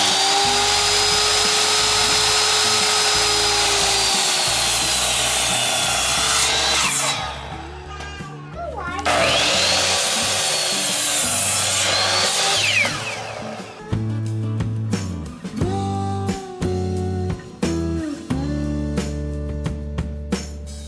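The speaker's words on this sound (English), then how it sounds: "next we get to use our sweet miter saw and do 10 5/8 with miters, or with the 45-degree angle at both ends" A miter saw cuts wood boards at 45-degree angles while building a goat stand, with a loud whining spin-up, a rising and falling cut through the wood, then repeated short bursts and clatter as the blade winds down.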